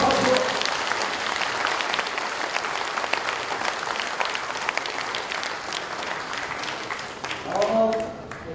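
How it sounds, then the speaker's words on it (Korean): A crowd at a Korean political forum in a hotel hall applauds steadily with dense clapping throughout, tapering off near the end as a voice briefly begins to speak. "다시 한번 박수."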